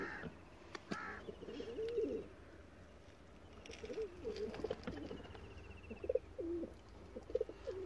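Soft pigeon coos repeat at intervals, close by, over a faint background hum with occasional light rustling.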